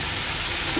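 Sliced garlic sizzles steadily in a hot pan during Sri Lankan home cooking, a brief, even crackle of frying with no pauses or voices.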